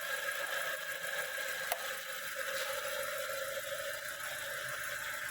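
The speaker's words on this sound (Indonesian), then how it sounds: "Suara mesinnya menurun, injektornya yang naik." A 2010 Hyundai Avega automatic sits idling with its fuel injectors ticking loudly, a steady, even mechanical hum and fine rapid ticking with one sharp click partway through, close and continuous.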